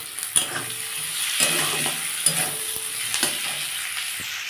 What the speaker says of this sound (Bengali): আমি একটু বেগুন আর টমেটো দিয়ে দেবো, দিয়ে এটাকে ভালো করে ভাজবো।